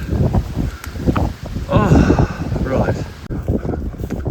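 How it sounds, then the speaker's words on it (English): Gusty wind buffeting the microphone while walking into a headwind on a countryside hike, a loud continuous low roar and rustle with someone talking over it throughout. "You probably won't be able to hear my voice over the wind because I'm walking directly into a headwind"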